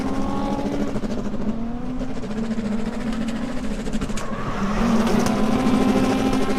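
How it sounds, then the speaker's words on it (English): A drift competition car's V8 engine revs hard and runs rough in one continuous, loud, strained drone that swells a little toward the end, with no talking. "That is the weirdest sounding V8."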